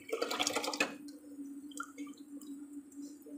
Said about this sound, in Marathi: आता त्याच्यामध्ये हे जे आपण पाणी काढून ठेवलं होतं डाळीचं ते ॲड करूया.